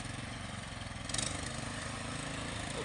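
A riding lawn mower's engine runs steadily while attempting to tow, a constant low mechanical drone with a slight swell partway through, moderately distant and with no talking.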